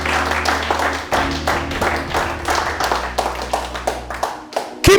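Church congregation clapping and applauding together, a dense run of rapid handclaps over a steady low hum, loud and continuous throughout.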